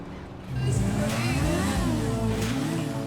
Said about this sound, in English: The other one sounds like a motorcycle. It is a motorcycle.